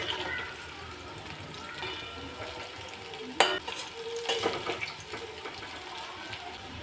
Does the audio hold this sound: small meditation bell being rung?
no